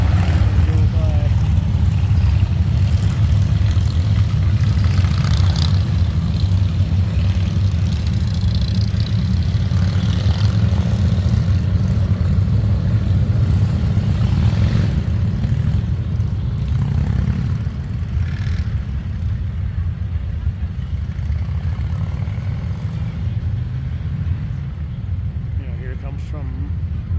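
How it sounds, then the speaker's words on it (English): A line of motorcycles riding past on a road at Sturgis makes a continuous loud low engine rumble that swells and fades slightly, with a person talking over it. "Got a line of bikes coming from that direction right now."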